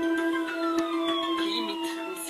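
A phone ringtone mimics a police siren with rising and falling electronic wails, clear and fairly close.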